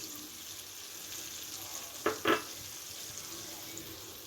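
Tamarind pulp and chili mixture frying on a low flame in a pan, a soft steady sizzle with a couple of brief louder stirring scrapes midway.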